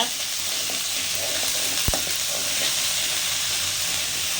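Curry leaves and ginger garlic paste fry in a hot pan on medium heat, giving a steady loud sizzle and hiss with one sharp clink partway through.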